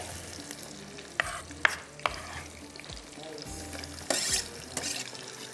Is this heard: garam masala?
yes